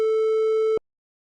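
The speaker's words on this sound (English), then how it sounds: "Let's listen to a triangle wave signal with 440 Hz." A steady 440 Hz triangle wave test tone sounds alone, clean and constant for under a second before cutting off sharply into silence.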